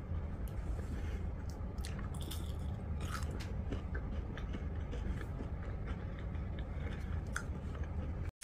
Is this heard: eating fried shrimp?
yes